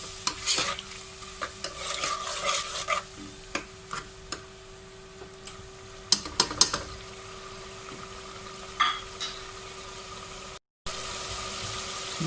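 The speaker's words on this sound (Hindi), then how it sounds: "मसाले को अच्छी तरह भूनेंगे।" Spices with turmeric and a little water frying in a pot for aloo matar pulao, a low sizzle under repeated scraping stirs of a spoon against the pot, close and fairly quiet.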